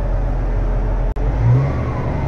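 A tractor engine drones steadily at close range, with a heavy low rumble that briefly cuts out midway and then picks up with a slight rise as the machine moves forward during cover-crop seeding.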